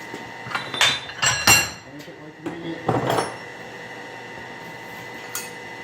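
A thin hot cut chisel is hammered into hot metal along the vein of a forged leaf, giving several sharp, irregular ringing strikes at close range, followed by quieter handling sounds.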